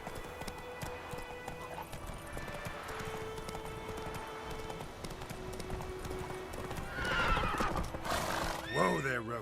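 Roach the horse in The Witcher 3 on PS4 trots with steady rhythmic clip-clopping hooves, then lets out a loud neigh near the end, while a voice speaks over it.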